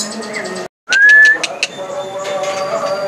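A white-rumped shama (murai batu) songbird at a bird shop gives a short bright rising whistle and a few sharp chirps, clear and close, with faint background murmur.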